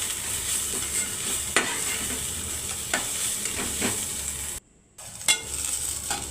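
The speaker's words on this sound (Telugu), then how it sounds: "ఉల్లిపాయలు పచ్చివాసన పోయేంత వరకు వేగితే సరిపోతుంది" Chopped onions and a cardamom pod sizzle and fry in a pan for a mushroom curry, a steady close hiss broken by sharp stirring scrapes and one brief drop to silence.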